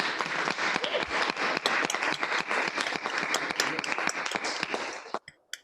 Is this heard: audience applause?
yes